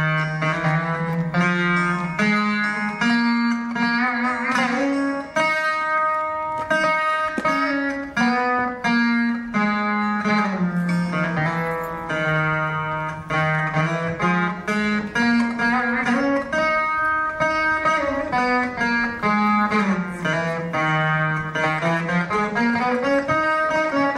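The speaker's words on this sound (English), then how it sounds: "Ratnangi sounds like this." Carnatic rendition of the raga Ratnangi, a sustained melodic line with a steady drone beneath, gliding and ornamented notes flowing continuously and loudly with no speech.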